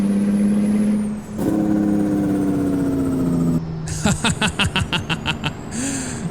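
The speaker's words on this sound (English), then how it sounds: "Let's listen to the Jake brake in this thing" An American Truck Simulator truck's engine drones steadily and then breaks into a rapid, loud staccato chatter of the Jake brake, with pulses fading as the rig slows.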